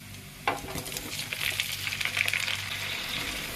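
Shrimp and sliced garlic go into melted butter in a pan, opening with a sharp clink and then a bright, crackling fry that builds and holds steady, with light stirring knocks.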